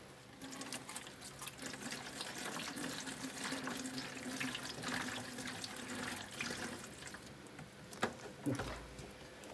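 Washer fluid poured into the windshield washer reservoir of a 2000 Chevy Malibu, a steady trickling, splashing liquid sound running throughout with a couple of brief louder knocks near the end.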